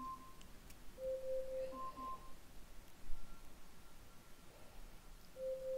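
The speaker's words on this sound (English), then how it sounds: "Alexa, stop timer." A smart speaker's kitchen timer sounds a few faint, evenly spaced electronic beeps against a quiet room with light rustling.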